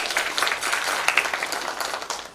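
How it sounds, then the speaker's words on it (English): An audience at a naturalization ceremony for Putnam County, New York, gives a brief, moderately loud round of scattered applause that lasts a couple of seconds, with no one talking over it. "a little round of applause"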